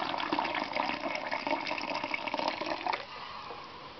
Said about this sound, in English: watch what happens once you pour in a warm drink into the cup